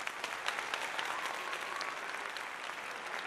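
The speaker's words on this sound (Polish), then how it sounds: "no to są oklaski" Steady applause from a small group, continuous dense clapping with no pauses, moderately loud and without speech.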